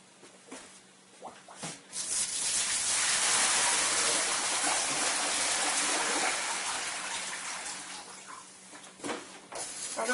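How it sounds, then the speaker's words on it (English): Water pours out of a bucket in one steady gushing splash lasting several seconds, with small clunks of handling before and after; fairly close and alone. "So I'll just empty the bucket."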